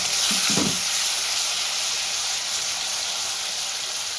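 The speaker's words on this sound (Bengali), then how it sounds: "আমি পেঁয়াজ বাটাটা দিয়ে দেব।" Onion paste frying in a pan over cumin seeds, a loud, constant close sizzle with a couple of brief low thumps near the start, no voices.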